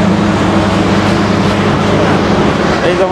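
Passenger train running on the Dhaka to Mohonganj line, a loud steady rumble and rattle heard from inside the carriage with low murmured voices.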